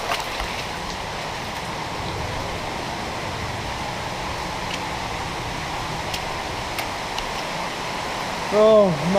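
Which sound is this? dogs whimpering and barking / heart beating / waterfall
waterfall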